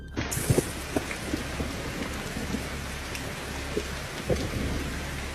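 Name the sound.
heavy rain and thunder at night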